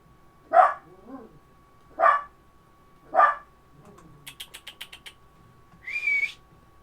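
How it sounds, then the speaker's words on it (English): Three sharp, evenly spaced dog barks ring out in a quiet space, followed by a quick burst of high clicks and a short whistle-like tone. "Our background is officially the barking dog."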